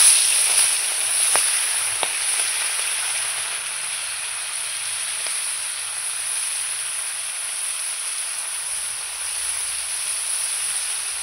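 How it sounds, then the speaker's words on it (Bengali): Amudi fish frying in hot oil give a steady, bright hiss of sizzling that holds evenly for several seconds, close and continuous with a few faint clicks. "তেল গরম হয়ে গেছে এদিকে আমার। মাছগুলো আমি দিয়ে দেবো।"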